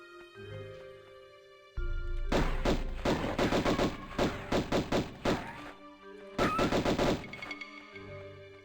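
Lara Croft firing guns in Tomb Raider I, two rapid bursts of sharp game gunshots in quick rhythmic volleys separated by quieter ambient tones and a low thud.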